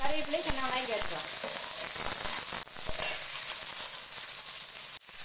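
Shallots and curry leaves hit hot oil in a pan with mustard seeds, giving a steady bright sizzle and hiss, with a couple of sharp clatters and a voice speaking briefly at the start.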